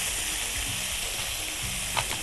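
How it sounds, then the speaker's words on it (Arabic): Chicken pieces sear in a hot pan or tray with a dense, continuous sizzle and a few small clatters as they are spread out. "نوزع كده الفراخ عشان نستفيد بالسخونيه بتاعه الطاسه او الصينيه"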